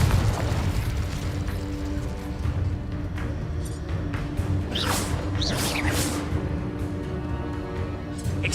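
Confringo blasting spell going off in Hogwarts Legacy, a dense rumbling boom with layered whooshing bursts and crackle that run steadily through the whole stretch, loud and continuous with no talk over it.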